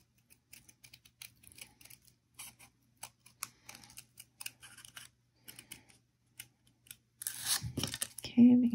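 Scissors snip through paper again and again while a paper rose is being made for a Valentine's paper flower project, giving quiet irregular clicks up close with no talk, then a louder rustle and handling at the end.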